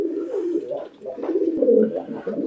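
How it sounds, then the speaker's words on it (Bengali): Black Danish pigeons at a pigeon farm coo continuously in low, rolling murmurs, several birds overlapping close by with no talk. "দেখতে পাচ্ছেন একজোড়া কালো ডেনিস কবুতর আছে এখানে"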